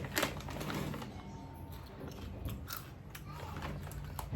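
Someone bites into and chews a Jolo chip during a spicy chip challenge, making close crisp crunches, loudest at the start and again in short bursts later, over low room noise.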